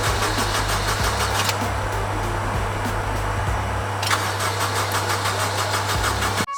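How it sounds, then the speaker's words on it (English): An abandoned Honda Integra DC5 Type R engine cranks on a jump pack without catching: a loud, close, rhythmic starter churn that runs continuously, briefly changing pitch partway through. "so we've got the V10 jump pack going. We're going to try and crank it."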